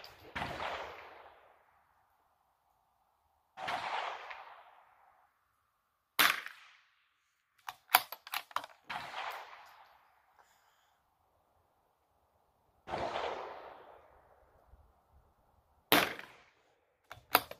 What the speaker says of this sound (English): I'm going to shoot one more little group and just see how this rifle does